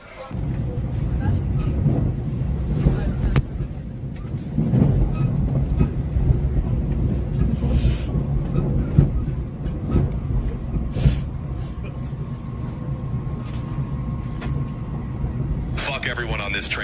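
Interior of a moving train carriage in Japan, a continuous low rumble with faint clicks and rattles of the rail car, while people talk throughout.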